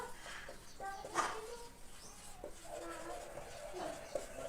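Marker or chalk strokes on a classroom board during a geography lesson, a few short scratchy bursts spread across the clip over a faint background hum.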